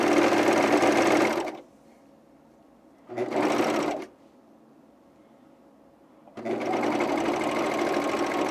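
A serger running a wide serging stitch on underwear fabric, in three loud bursts: a long run at the start, a short burst in the middle, and a final sustained run after a quiet pause.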